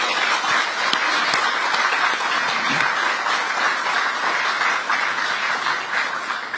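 A large crowd applauds steadily at the opening ceremony of the Ministry of Oceans and Fisheries office in Busan, a dense continuous wash of clapping held at an even, loud level throughout.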